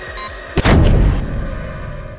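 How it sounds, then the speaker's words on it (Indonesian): Glasses blow up in a sudden loud bang with a deep rumbling tail, just after a short electronic beep; nothing else is heard. "Kacamatanya meledak."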